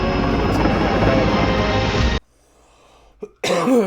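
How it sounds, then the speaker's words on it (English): A loud helicopter rotor drone in Microsoft Flight Simulator 2024 fills the first two seconds, then cuts out abruptly, leaving near silence before the noise briefly returns. "you got a helicopter."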